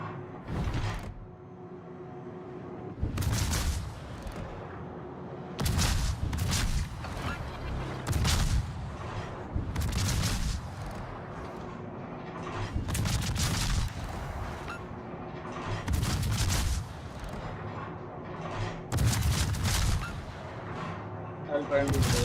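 Naval gunfire in a warship video game battle: heavy booming salvos thump repeatedly at irregular intervals over a steady rumble of engine and sea noise, loud and close.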